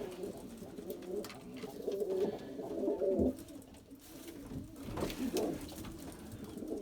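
Pigeons coo in a loft, low throaty calls repeating steadily through the whole stretch, fairly close and moderate in level, with no talk over them.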